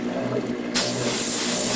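Liquid poured onto a part from a Gundam Aerial HG 1/144 model kit, heard as a sudden steady hiss that starts partway through, close and fairly loud, over a faint low background.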